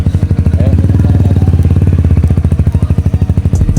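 A Yamaha R15 motorcycle fitted with a full-system muffler and the silencer removed idles loud and close, its exhaust thumping in a fast, steady, slightly lumpy pulse throughout.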